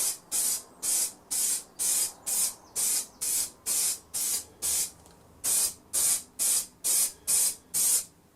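Clear car lacquer hisses from an aerosol can over a guitar body in rapid short bursts, about seventeen evenly spaced sprays with a brief gap midway, close and crisp with no voices.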